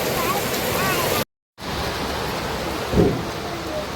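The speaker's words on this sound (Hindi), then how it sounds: "बिन मौसम बारिश आज फिर शुरू हो गई है।" Heavy, sudden unseasonal rain falling as a steady broadband hiss, loud and continuous apart from a brief gap, with a small bump of closer noise near the end.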